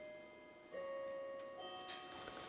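A Seth Thomas clockwork mechanism ticks quietly close by, with a faint ringing tone that rises suddenly partway through and lingers over the steady mechanical beat.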